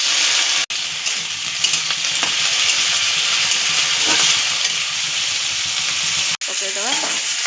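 Potatoes sizzle in hot oil with onion and cumin for a green pea curry, a steady broadband frying hiss running throughout with scraping stirs and a brief dropout near the start and end, no voices.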